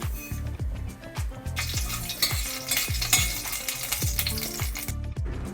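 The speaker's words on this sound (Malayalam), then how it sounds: "എണ്ണ ചൂടാകുമ്പോൾ ആവശ്യത്തിന് കടുക് ഇട്ട് കൊടുക്കുക." Mustard seeds popping and sizzling in hot oil in a home kitchen pan for lemon rice, a dense crackle with repeated sharp pops and stirring clatter throughout, close and fairly loud with no talking.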